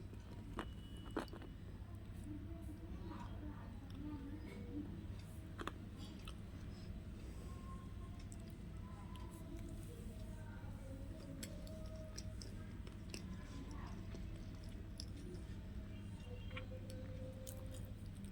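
Soft, close chewing and biting of tamarind rice (pulihora) at low volume, with faint clicks over a quiet room hum.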